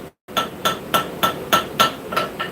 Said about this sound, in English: you need to make sure you're hammering in the same spot